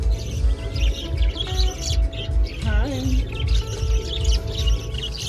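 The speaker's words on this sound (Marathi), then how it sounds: "अरे वा कलरफुल पोपट किती पोपट आहेत" Colourful parrots squawk and chirp close by, with a sharp rising call standing out above a rhythmic low rumble of background activity; no one speaks.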